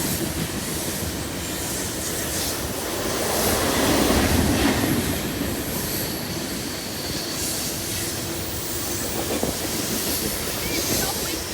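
A BNSF freight train rolls past Carkeek Park in Washington at sunset, a steady close rumble of wheels on rail with rhythmic clickety-clack and intermittent metallic squeals, swelling slightly mid-pass and continuing throughout.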